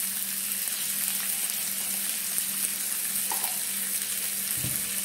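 Steady loud sizzling and frying of drumstick vegetable (sahjan) cooking slowly over low heat in a pan, a continuous hiss with a brief stirring scrape near the end.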